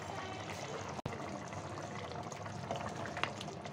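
Water pours steadily into a pot of browned lauki gosht, mutton cooked with bottle gourd, making a continuous close splashing rush with a bubbling, sizzling texture and one brief break early on.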